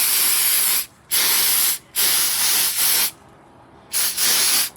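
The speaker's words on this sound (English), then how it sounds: "Then on this other surface, I'm going to just spray this." Short bursts of spray from a can of Magic Chem CA glue activator misted onto a surface, five close, loud hissing puffs separated by brief pauses.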